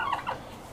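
A domestic tom turkey gobbles on a farm, one rapid warbling burst followed by a second shorter one, fairly close and clear over quiet outdoor background.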